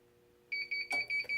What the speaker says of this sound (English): So we'll go ahead and hear the beep here real quick,